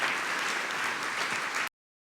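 Sustained, dense audience applause fills the room as a presenting team from Jupiter Ionics is welcomed at a CDL Super Session event in Melbourne, steady and loud throughout before cutting off abruptly.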